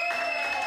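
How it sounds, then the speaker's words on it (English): A comedy-show crowd in Austin bursts into brief, loud applause, a short wash of clapping with a steady electronic hum running underneath. "One big round of applause for Jesse Ickler"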